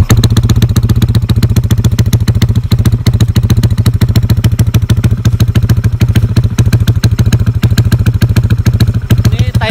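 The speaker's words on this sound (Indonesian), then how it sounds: "Kita pengen nyalain dulu guys motornya nih." Honda Vario scooter, a trondol build with stripped bodywork and a tuned engine, running at a mosque: a loud, close, rapid engine chatter with a steady low throb and dense rhythmic clatter, held throughout with no clear pause.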